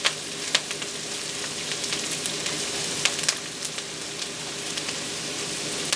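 Garlic frying in a pan while melting cabbage is being cooked, a steady close sizzle with small crackles and pops running throughout, no voices.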